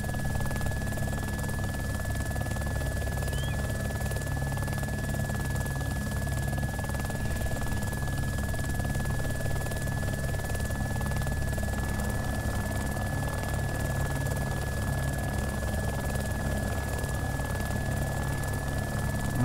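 A Little Bird helicopter in the video game DayZ Mod runs steadily throughout, a constant droning rotor and engine whine with a thin high tone on top, even and unbroken for the whole stretch without talk.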